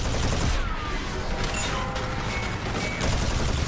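An energy gun fires in Call of Duty Black Sky, a dense, continuous barrage of loud blasts with whooshing, sweeping tones layered over heavy low rumble, relentless throughout.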